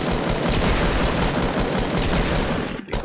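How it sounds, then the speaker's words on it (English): Rapid bursts of gunfire crackle through a Fortnite Battle Royale match, a dense, loud fusillade of repeated shots running almost nonstop before a brief dip near the end. "Oh, that gunfire already."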